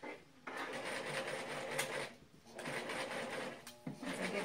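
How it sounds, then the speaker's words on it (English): A sewing machine stitches tulle fabric for a costume underskirt, whirring in two quick stitching runs separated by brief pauses, fairly faint and close. "we're going to actually sew all the way around"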